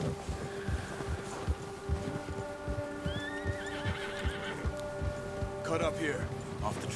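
A horse in the video game Red Dead Redemption 2 whinnies and snorts near a bear, over a steady clip-clop of hooves and sustained musical tones.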